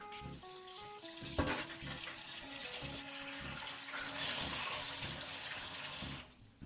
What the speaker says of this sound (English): So you get the ginger and then you wash it a couple of times, try and get any like sort of dirty bits out.